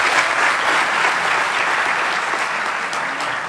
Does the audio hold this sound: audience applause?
yes